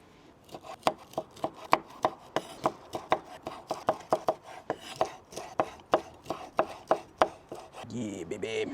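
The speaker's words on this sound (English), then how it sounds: "Let's get to chopping our shrimp." A knife chops shrimp rhythmically on a cutting board, about twenty quick, evenly spaced thuds, close and crisp, ending with a brief scraping sound.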